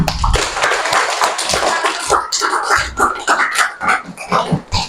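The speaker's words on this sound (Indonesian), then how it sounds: "Luar biasa, tepuk tangan kita semua." A classroom at an Indonesian vocational school (SMK) breaks into a sustained round of group clapping after the class presentations, dense and close throughout with no voices rising above it.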